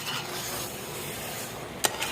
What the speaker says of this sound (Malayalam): ഇട്ടിട്ട് നമുക്ക് നന്നായിട്ടൊന്ന് മിക്സ് ചെയ്തെടുക്കാം